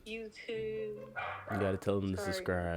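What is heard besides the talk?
dog barking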